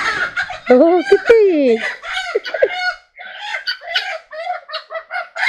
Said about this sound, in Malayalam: നമുക്ക് കോഴിക്കൂട്ടിലേക്ക് പോകാം കോഴികളെല്ലാം പുറത്താണ് ഉള്ളത്